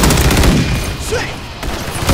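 Dense, loud gunfire from the video game Call of Duty, in a close-quarters Shipment match, crackles continuously in overlapping bursts, with a brief lull before firing resumes near the end.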